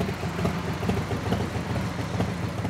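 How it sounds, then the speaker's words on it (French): Harley Davidson motorcycle engine running nearby, a continuous low, throbbing rumble with an uneven pulsing texture and no voices. "Elle s'est offert une Harley Davidson"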